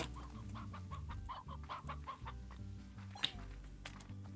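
Chickens in the video game Slime Rancher cluck in a steady stream of short, rhythmic calls, close and clear over a low droning backdrop.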